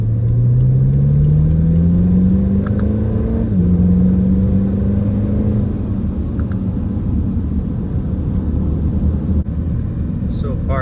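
A BMW X5M with the S63 engine accelerates hard, a loud close engine note climbing steadily in pitch, dipping at a shift, then settling into a sustained drone with road rumble throughout.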